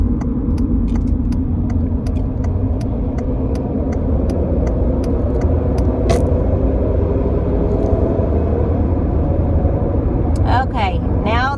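Steady road rumble from inside a car cruising the I-70 highway, with a regular ticking, like an indicator, in the first half and a few brief higher sounds near the end.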